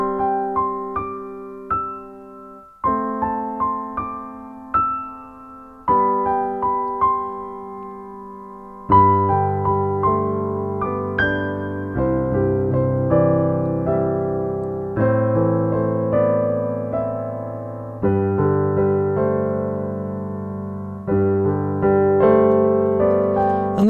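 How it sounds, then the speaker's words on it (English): The Pianoteq 7 Pro piano plugin, set to the New York Steinway D preset, plays a slow chordal passage with sustained, resonant notes that gradually build from a sparse opening into fuller, deeper harmonies, heard clean and without any talk. "you're going to be presented with this preset, the New York Steinway D."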